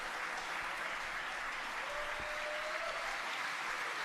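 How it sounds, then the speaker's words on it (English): Steady applause from a crowd at a Falcon 9 Crew Dragon Crew-4 launch viewing, a continuous wash of clapping that stays even throughout. "You can hear the applause behind us."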